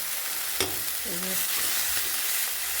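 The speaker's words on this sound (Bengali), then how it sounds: "একটু নেড়ে নিচ্ছি" Grated ginger and onion frying in a pan, a steady bright sizzle with a spoon clink and brief stirring, close by, with a short faint voice-like tone in the middle.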